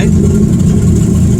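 A 1962 Mercury Comet engine idles a bit high just out of the garage, giving a steady, loud, low rumble that runs continuously and evenly throughout.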